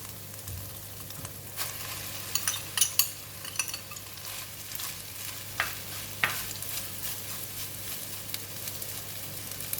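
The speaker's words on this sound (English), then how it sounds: "I'm going to put in the rice." Rice tossed with cooked egg and vegetables sizzles in a hot pan while a spatula stirs and scrapes in scattered clinks and knocks, close but fairly soft, with no talk.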